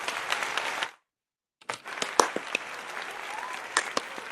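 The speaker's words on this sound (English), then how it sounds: "I love the golf clap." Light golf-clap applause from a small group during a podcast, a short burst of scattered claps, then a brief silence before more sparse, irregular claps resume at moderate level.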